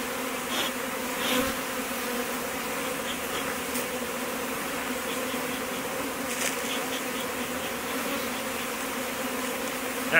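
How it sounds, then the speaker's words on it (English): A dense swarm of honey bees drones steadily around an overflowing hive, a continuous close, even buzz with no voices, holding level from start to finish. "There are just so many bees here."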